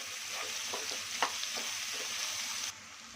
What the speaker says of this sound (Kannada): ಇದು ಹಾಕ್ಕೊಂಡು ಫ್ರೈ ಮಾಡ್ಕೊಳ್ಳಿ.